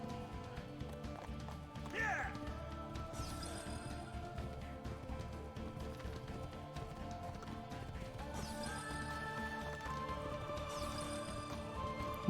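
Horse hooves clopping at a run through a crowded street in Assassin's Creed 2, a steady galloping patter under game ambience with a brief whinny early on and no speech.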